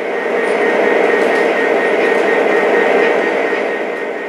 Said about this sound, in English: We need to move the GP7 off spur 3 and onto 2 to make room for the larger SD70.